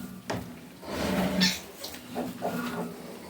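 A sow squeals and grunts nearby in short, noisy bursts while farrowing, with a continuous barn background.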